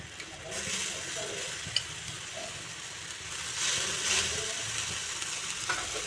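Small Japanese puti fish fry in a pan, giving a loud, continuous close sizzle with occasional sharp pops and a brief rise in spitting intensity.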